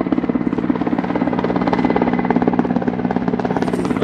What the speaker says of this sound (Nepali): हेलिकप्टरबाट चाहिँ राशन सप्लाई हुँदैछ।